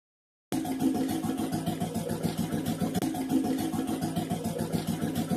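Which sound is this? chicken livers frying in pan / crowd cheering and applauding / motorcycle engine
motorcycle engine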